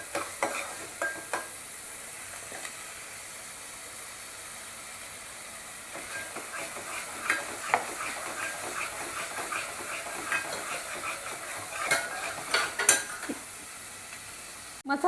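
Masala for a Satara-style mutton curry sautés in a pan, with a soft steady sizzle and scattered scraping and stirring clicks from a spoon, fairly quiet and close, with no talking.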